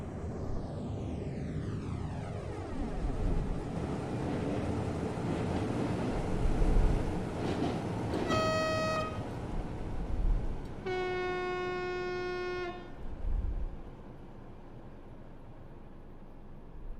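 A simulated passenger train in Train Simulator 2020 on the Lake Constance line from Schaffhausen to Kreuzlingen rumbles steadily as it pulls away. The horn sounds twice, a short blast and then a longer one, clear above the running noise.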